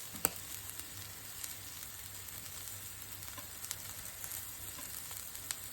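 Grated dry coconut roasts in a pan over a low flame, giving a steady, close hiss of sizzling with occasional faint stirring ticks and no voices.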